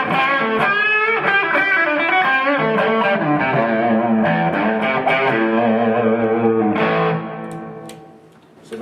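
Electric guitar with overdrive through a TC Electronic Hall of Fame reverb pedal on a room setting, strummed chords ringing loud and continuous, then fading into a short reverb tail near the end.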